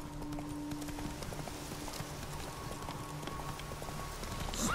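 A horse gallops in The Witcher 3, with a rhythmic clip-clop of hooves under steady ambient game sound and faint music, continuous for several seconds.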